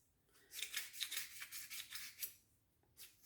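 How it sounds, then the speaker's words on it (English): Sandpaper rubs back and forth inside a small drum from a Yamaha Raptor 350 or Warrior reverse lever, a quick series of close, raspy scrubbing strokes in a steady rhythm, then a short pause before one more stroke. "Take some sandpaper, put it in that little drum thing"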